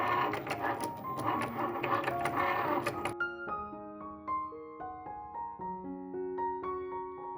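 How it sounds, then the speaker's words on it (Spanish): A Cricut cutting machine works through vinyl lettering for a painted cutting-board decoration, giving a busy mechanical whirring and clicking for about three seconds before soft music carries on alone. "Yo voy a usar la Cricut"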